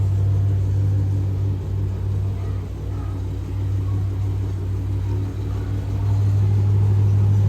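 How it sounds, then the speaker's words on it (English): A Dodge Scat Pack muscle car's deep, throaty engine rumble idles steadily and loudly, with a low pulsing growl that swells slightly near the end. "I don't think I'm gonna ever get over the sound of this car"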